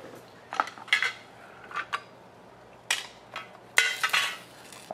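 Screws from a Taranis X9D radio transmitter dropped into a metal tin, making several sharp metallic clinks and rattles in irregular bursts, close and clear against a quiet room.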